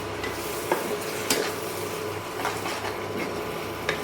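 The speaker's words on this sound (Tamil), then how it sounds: "ஊற்றி விட்டு அப்படியே மிக்ஸ் பண்ணி விடுறாங்க." A spoon scrapes and stirs chicken curry masala for a Bengali-style dish in a pan, soft rhythmic scrapes over a steady low sizzle, close and fairly quiet.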